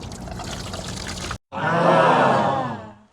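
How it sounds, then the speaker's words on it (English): Water is poured into the drain channel of a new Tesla Model Y Juniper, a loud close splashing pour that stops briefly, then resumes as a steady gurgling stream that fades out. "Let's take this water and let's see where the water actually drains."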